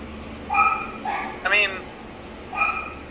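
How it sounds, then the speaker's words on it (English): A dog barks and yips several times in the background, sharp short bursts separated by pauses, with a whimpering quality, heard during an interview. "excuse the dog barking in the background"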